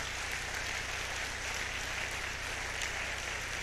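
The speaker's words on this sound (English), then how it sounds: "Let's clap for the lecturer." Steady applause from a university convocation lecture audience, an even wash of clapping that holds at a constant level without pause.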